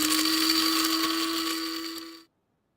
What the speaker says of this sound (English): that's actually a coffee grinder